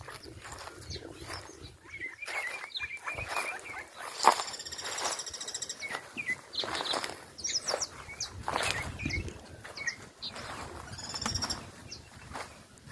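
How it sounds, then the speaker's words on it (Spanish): Pigeon and other wild birds calling outdoors on a calm afternoon, with a mix of chirps and calls near and far, including magpies, cowbirds and an ovenbird's nest area, over a soft ambient background. "Una paloma,"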